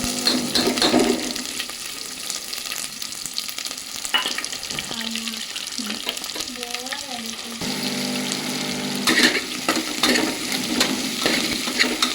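Spices and asafoetida sizzle and crackle in hot oil while tempering for a black-eyed pea curry, a steady bright frying hiss with occasional stirring scrapes and a few brief squeaky tones.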